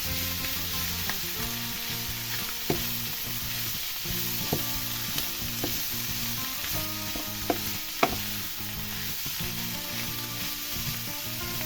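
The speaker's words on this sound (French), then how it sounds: "Pareil, on va faire colorer le chou." Sauerkraut fries and browns in a pot, giving a steady close sizzle. Occasional sharp clicks of stirring rise over it, and no one speaks.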